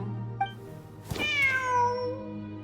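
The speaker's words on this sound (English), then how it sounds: "Wait, there it is! The cat!" A cat meows once in Genshin Impact, a clear drawn-out falling call heard over a steady low game background hum, with a soft click just before it.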